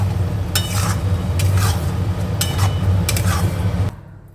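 A paste of bottle gourd peel sizzles and fries with onion in a pan while a utensil scrapes and stirs in repeated strokes, then the sound cuts off abruptly.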